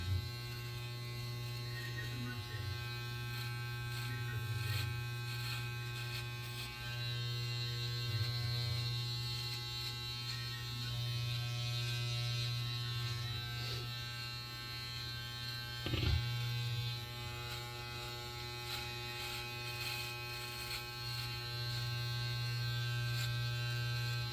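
Electric razor buzzing steadily through a shave, a continuous close hum with slight shifts in pitch and pressure and one brief louder bump partway, with no talking.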